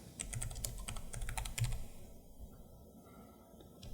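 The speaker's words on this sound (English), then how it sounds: "press the Windows key and type in Update" Typing on a computer keyboard, a quick run of crisp clicking keystrokes in the first half that then thins out to a few scattered taps, close and clear with no talking.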